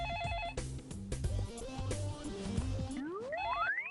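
A telephone rings in a house, a repeating electronic ringtone melody of several bursts at moderate level with no talking, ending in a rising sweep.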